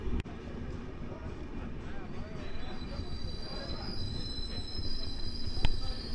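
The Ruposhi Bangla Express (12883) rolls into Bishnupur station, its wheels squealing steadily over a continuous rail rumble that swells slightly near the end.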